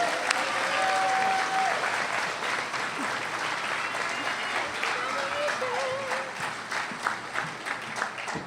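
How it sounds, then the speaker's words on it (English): An audience at a senior awards ceremony applauds its scholars with sustained, dense clapping, and scattered voices and a few cheers rise over it. "Can we have one more round of applause for our Scholars of Distinction?"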